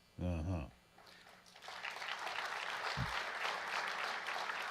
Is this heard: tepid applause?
yes